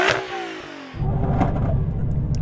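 A sports car engine revs up, cuts out for a moment, then settles into a low, steady rumbling idle nearby.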